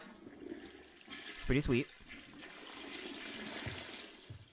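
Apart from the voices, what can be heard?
toilet flushing in video game Friday the 13th: The Game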